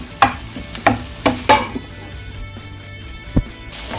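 A mixture with curry leaves is stirred and sautéed in a pan for a moringa-leaf breakfast snack: a series of distinct spoon knocks and scrapes against the pan over a faint sizzle, with one last clack near the end.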